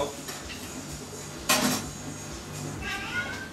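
A cat gets into aluminium foil in a home kitchen, producing a brief sharp crinkle and rustle amid quiet clinks of dishes and cutlery, with faint background noise before and after.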